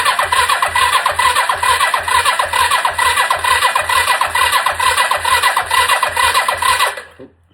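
A Kawasaki KZ300 motorcycle engine cranks over on the starter, with a steady rapid rhythmic churning that holds loud and close for about seven seconds before cutting off abruptly.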